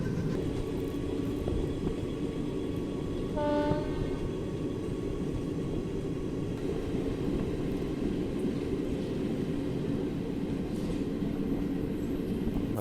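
An ICF AC special train arrives at Panipat junction, a steady loud rumble of wheels and carriages rolling past, with a short horn-like tone sounding near the start.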